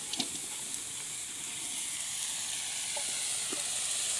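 Chopped wild taro tipped into a hot pan of small shrimp being cooked village style: a few sharp clinks at the start, then a steady hissing sizzle that builds gradually and carries on alone, with faint stirring knocks.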